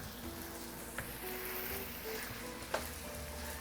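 Soy sauce hissing and sizzling in a hot pan of pepper steak and broccoli stir fry, a steady close crackle with a couple of sharp clinks of a utensil.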